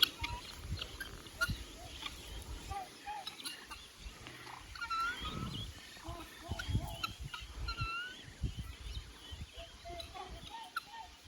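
Geese honk and cackle in scattered bursts among other farmyard animal calls, moderately near, with some low grunting underneath.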